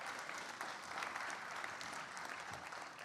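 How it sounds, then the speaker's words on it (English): Guests at a university arts awards ceremony give a round of applause, a soft, even patter of many hands clapping in a hall, fairly distant and steady throughout. "give her a round of applause"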